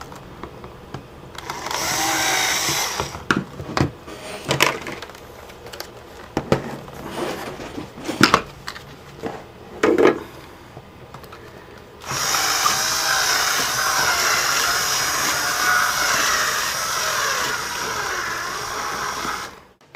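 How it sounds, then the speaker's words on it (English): A battery power drill works a hole wider in a Vaio laptop during a power jack repair, whirring in short bursts and stops, then running steadily for the last stretch, loud and close. "I'm just going to bring the drill in like a circular motion just to make the hole a little bit bigger."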